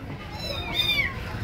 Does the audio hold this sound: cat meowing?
yes